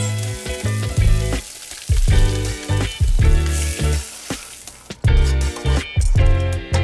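Trout fillets sear in a hot frying pan, a steady loud sizzle broken by repeated bumps and clatters as the fish is moved and flipped, with no talking.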